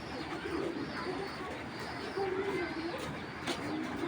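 Pigeons coo softly and repeatedly in a loft housing high-quality Giribaz flying pigeons, the low murmuring calls overlapping steadily and close by with no talk.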